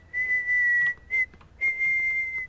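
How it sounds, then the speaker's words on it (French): Passers-by whistle a tune in the video game Prey, a clear high whistled melody in three phrases with short gaps, sounding alone over a faint low background hum. "avec les passants qui sifflotent"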